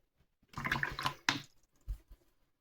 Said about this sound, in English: And rinse that brush off, clean it off.